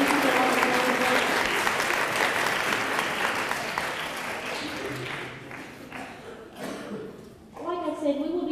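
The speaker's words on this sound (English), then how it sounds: "Let's give these ladies a round of applause" An audience at a school spelling bee claps for the school coordinators, a full round of applause that gradually thins out before a voice begins speaking at the end.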